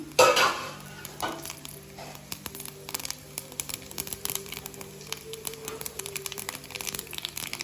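Mustard and fennel seeds go into hot oil in a pan for potato masala, giving a soft crackle and a scattering of faint pops and light scraping after an initial rattle as they drop in.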